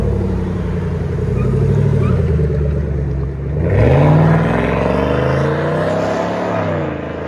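A GMC Yukon AT4 with a 5.3-liter V8 and a fully straight-piped exhaust revs loudly up close, a deep sustained roar that dips briefly and then climbs again, with no voices over it.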